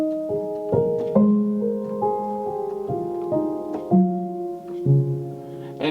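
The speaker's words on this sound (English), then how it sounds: "I'll let this whole piano part play out" Piano part from a song breakdown, with one note that sounds slightly off against another; a sequence of struck chords and melody notes rings out clearly and alone at moderate loudness.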